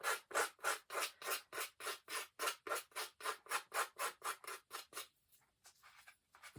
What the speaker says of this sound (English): If I decide I don't like it, look at that. I can scrape it right back off.